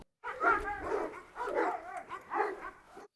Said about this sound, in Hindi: हेक्टर को देखकर बाकी कुत्ते पागल हो गए